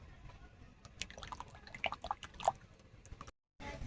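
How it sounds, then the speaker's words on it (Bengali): A tablespoon of ghee poured into milk in a cooking pot while making kalakand, heard as a few soft, faint drips and small splashes spread out in a quiet kitchen, followed by a brief silence. "দেখুন 1 টেবিল চামচ ঘি নিয়েছি, এই দুধের মধ্যে দিয়ে দেবো"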